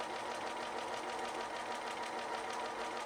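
A sewing machine top-stitches binding close to the edge of a scalloped quilt border, running in a steady, close, rhythmic whir for the whole stretch.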